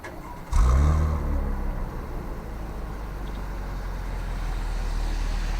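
A 2018 Chevrolet Camaro 1LT RS engine cranks and fires with a sharp burst on a semi-cold start, then settles into a loud, steady idle with a deep rumble.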